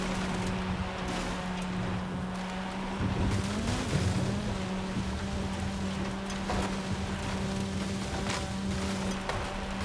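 An Audi engine in Forza Horizon drones steadily as the car accelerates, a sustained hum with tire noise and a brief rise in pitch, moderately loud and continuous.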